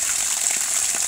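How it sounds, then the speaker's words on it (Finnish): Water gushes steadily from a well in Finland, a loud, close, continuous rushing hiss that stays even for the whole moment with no voices. "vihdoin tulee vettä."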